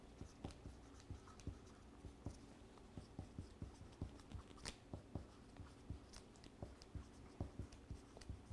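Quick, scratchy strokes of a pen or marker drawn by hand across fabric pattern material while marking a fold, coming in steady, closely spaced bursts with faint shuffling between them.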